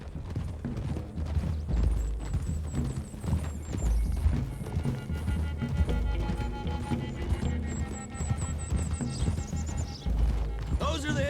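Rapid clip-clop of galloping horse hooves in Red Dead Redemption 2, with occasional whinnies, mixed with music and voices over a busy, continuous backdrop.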